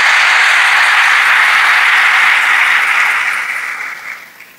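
A church congregation bursts into loud, sustained applause and cheering for the Holy Spirit, a dense wash of clapping that holds steady and then fades away over the last second or two.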